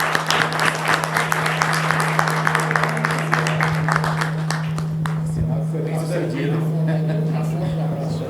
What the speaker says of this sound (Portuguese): Uma salva de palmas para o Jailson